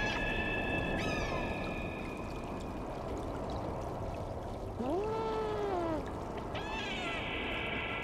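Cat meowing in the video game Stray, two distinct rising-and-falling meows heard near the middle over a steady background of trickling, pouring water, with faint game chimes around them.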